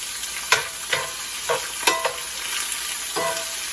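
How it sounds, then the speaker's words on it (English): Potatoes and onions fry in a skillet with a constant sizzle, broken by several scraping strokes of a spatula pushing the potatoes aside. The sound is close and no one speaks. "push those potatoes out of the way a little bit and get these frying up"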